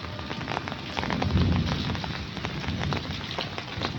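Rain falls steadily in a dense patter during a low-pressure spell of wet weather, fairly loud and close, with scattered heavier drops and no voices.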